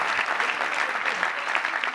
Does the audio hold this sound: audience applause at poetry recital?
yes